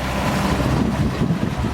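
Twin engines of a 2016 Yamaha 242X jet boat run in sync at the same speed, a steady low rumble mixed with wind buffeting and water rush, continuous and fairly loud with no speech.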